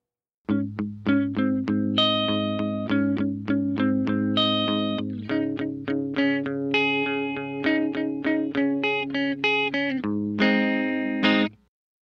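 A dry, distorted electric guitar plays a steady rhythmic riff of repeated chords, close and clean of echo, with a brighter flourish near the end.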